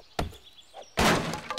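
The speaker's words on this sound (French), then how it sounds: "Tiens, si je pète la glacière, je vais avoir quoi?" A cooler smashed in the zombie survival game 7 Days to Die, two sharp impact thunks, a lighter hit then a heavier crunching smash, close and clear with no talk.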